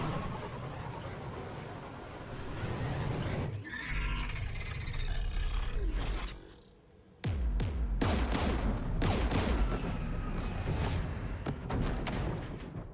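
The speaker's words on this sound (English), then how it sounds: "We're taking fire." Gunfire hits a ship in the video game Mass Effect 3 as loud, dense roaring blasts and impacts that break off briefly near the middle, then return as sharp, rapid bursts.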